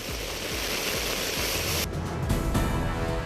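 Swollen Moksha River in flood at Nandanagar in Chamoli, a loud continuous roar of rushing water with broadband noise throughout and no voices.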